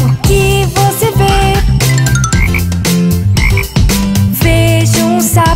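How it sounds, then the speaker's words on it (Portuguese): A frog croaks repeatedly in a children's animal-sound song, loud and close, set over bright musical accompaniment with no spoken words. "Vejo um sapo. Ribbit, ribbit, ribbit."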